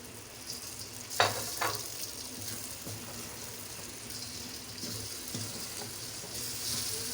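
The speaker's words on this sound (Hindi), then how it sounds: "अब भिंडियाँ डालने के बाद हम लोगों ने थोड़ा सा इनको फ्राई किया है" Fried okra is tossed into a prepared masala and stir-fried in a pan, with a continuous low sizzle under a few sharp scraping stirs and clatters near the start. Softer stirring knocks follow later, and no one speaks.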